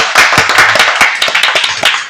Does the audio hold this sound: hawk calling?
no